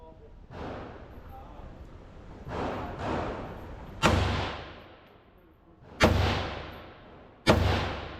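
A heavy gun fires at a shooting range, five loud booming shots spaced a second or two apart, each with a long rumbling decay, while people talk between them.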